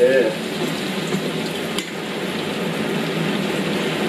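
Chicken pieces frying in hot oil, a steady dense sizzle throughout with a brief clink at the start and another around the middle.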